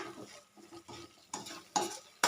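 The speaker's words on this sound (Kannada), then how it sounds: "ಮಸಾಲೆ ಫ್ರೈ ಆಗೋದು ಈ ರೀತಿ ನಾವು ಆ ಕಡೆ ಈ ಕಡೆ ಮಾಡ್ಕೋತಾ ಇರೋಣ." Garlic thokku masala frying in oil in a pan is stirred in quick scraping bursts, soft sizzling between sharper clinks of the spoon, close and quiet.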